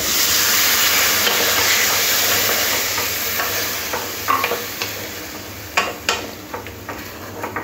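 Water poured into spiced potatoes frying in a pan for a fish egg curry sets off a loud burst of hissing sizzle that slowly fades, followed by a few clacks of a spoon stirring, no talking.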